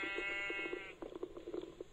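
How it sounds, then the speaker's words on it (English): A sheep in Minecraft gives a single wavering bleat, faint and clean, followed by soft clicks and game noise. "Hey sheep."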